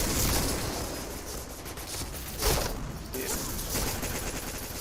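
Gunfire in the Point Blank shooter game, a dense continuous stream of rapid shots and bursts with a sharper crack midway, steady and fairly loud with no clear talk.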